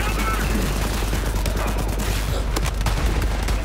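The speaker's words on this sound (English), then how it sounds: "I'm gonna test out my gun. My new fucking mega rocket." A mega rocket launcher fires in Borderlands 3, with a rapid burst of loud blasts and explosions crowding together over a heavy rumble. A few sharp reports stand out near the end.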